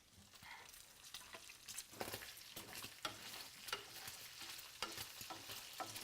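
Bacon frying in a pan beside roasting sweet potatoes, giving a quiet, steady sizzle with scattered crackling pops and some stirring scrapes, with no talking over it.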